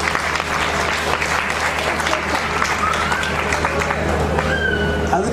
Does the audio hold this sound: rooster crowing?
no